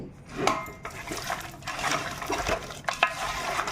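Chicken pieces are mixed by hand with lemon juice, salt, chili and spice masala for a biryani marinade, giving a close, wet squelching and rustling with occasional light clinks against the bowl, and no voices.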